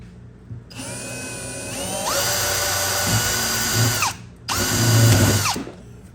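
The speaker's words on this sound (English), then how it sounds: "going to start out with an 1/8 inch pilot hole" A power drill whines at high speed in two long bursts with a short pause between, boring a 1/8-inch pilot hole in a 1964-65 Mercury Comet, the pitch dipping as the bit bites in, close and loud.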